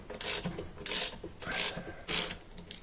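Four slow ratcheting, rasping pulls on a wrench as a factory-Loctited bolt is worked loose from an LG washer rotor, each stroke a close scrape of about half a second with short pauses between.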